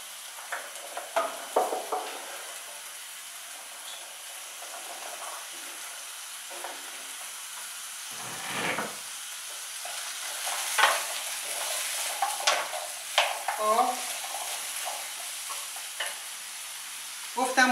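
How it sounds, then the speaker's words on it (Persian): Finely diced pumpkin sautéed with garlic and onion in a pan for a pasta dish, a steady sizzle and frying hiss with repeated stirring scrapes and clatters, close and continuous without talk. "این کدوامون رو که مکعب ریز کردیم به این مواد سیر و پیاز تفت دادمون اضافه میکنیم"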